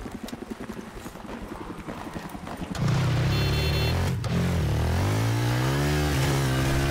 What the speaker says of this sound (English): bike coming towards us